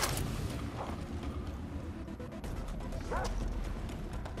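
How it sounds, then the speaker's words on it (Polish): Dogs bark and yip in the Far Cry 3 video game amid dense, noisy in-game action sounds, the barking fairly faint and partly buried under the continuous clatter and rumble. "Jeszcze jakieś psy słyszę tutaj."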